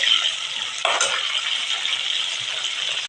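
Tempering seeds fry in hot oil in a pan, giving a steady close sizzling hiss throughout, with a brief stirring scrape or clatter partway through.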